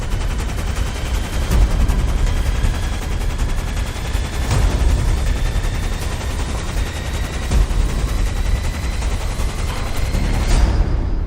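Sustained gunfire from a dramatic show scene, a dense, continuous barrage of shots with sharp louder bursts punctuating a steady roar, with no talking over it.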